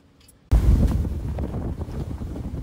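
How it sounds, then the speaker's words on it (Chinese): Strong wind buffets the microphone outdoors, a sudden loud rumbling roar that starts abruptly and keeps blustering steadily without letting up. "哎，这风"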